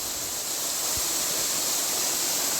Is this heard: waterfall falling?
yes